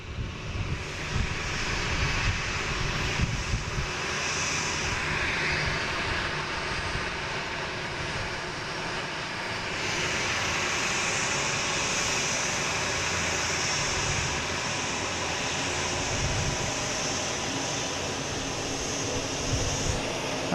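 An ITA Airways airliner at an airport, its engines giving a steady, distant roar that swells slightly midway and holds without a break, with no talking over it.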